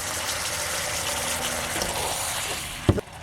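A little water is poured into a pan of chicken stir fry with oyster sauce, giving a close, steady wash of sizzle and liquid noise that ends in a brief splash and clatter near the end.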